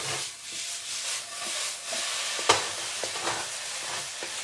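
Salmon hash frying and being stirred in a pan gives a steady close sizzle, with soft scraping strokes and one sharp utensil clack partway through.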